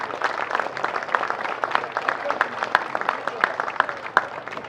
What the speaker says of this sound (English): a big round of applause to both teams for an awesome display here today